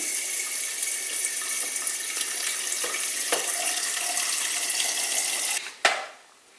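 Water streams steadily from a kitchen tap into a container while being measured for sourdough bread dough. The flow runs close and loud, then cuts off abruptly near the end with a brief splash.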